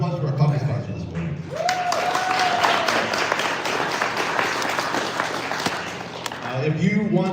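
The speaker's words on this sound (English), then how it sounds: "How about a round of applause for our coffee sponsor this morning?" A morning meetup audience claps for the coffee sponsor, steady applause from a modest crowd, with a voice speaking over the start and end.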